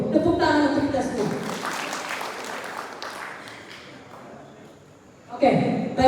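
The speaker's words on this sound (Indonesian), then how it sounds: "Tepuk tangan untuk kita semua." Seminar audience in an Indonesian meeting hall applauding together, a dense wash of clapping lasting several seconds and fading out, with a speaker's voice over the start and returning at the end.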